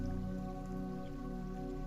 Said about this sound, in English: The water that you hear is going to help you during this meditation.